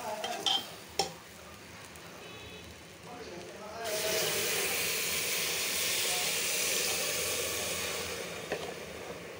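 Water poured into a hot pot of garlic khichuri with beef sets off a loud, sustained hiss and bubbling that starts abruptly partway through and continues, after a few faint knocks and quiet kitchen sounds.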